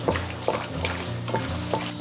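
Squelchy, wet slapping and kneading by hand of beef marinating with soy sauce, egg white and cornstarch in a bowl, repeated in a loose rhythm, close up with a low background hum.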